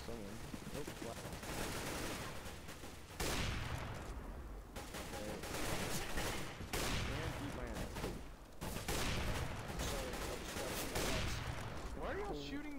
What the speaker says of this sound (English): Why are y'all shooting the wood?